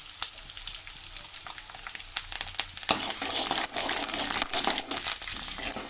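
Curry leaves and coriander sizzle in hot oil while tempering mango pulihora, with a steady crackling fry and sharper pops and spatters that grow busier in the second half.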